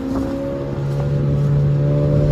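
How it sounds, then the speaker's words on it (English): Manual car's exhaust accelerating in first gear, a steady droning engine note that rises in pitch and grows slightly louder as revs climb, close and continuous without talk. "You can hear the exhaust, my beautiful exhaust."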